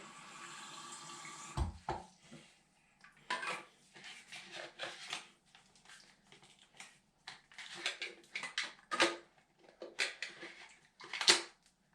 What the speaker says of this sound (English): let me fill it up with some water